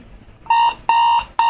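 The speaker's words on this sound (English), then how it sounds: "Oh yeah, that is that classic horrible alarm clock noise" Vintage General Electric GE clock radio, model 7-4612A, sounds its alarm: a loud, harsh electric buzz in three repeated bursts, each lasting about a third of a second, separated by short gaps.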